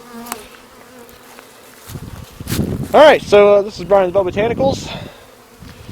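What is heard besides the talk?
honeybees buzzing around a hive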